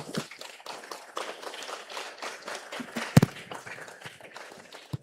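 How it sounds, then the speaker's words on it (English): An audience claps hands at a graduation ceremony, with a dense, steady patter of many hands throughout and one sharper, louder clap near the middle. "Keep those hands clapping."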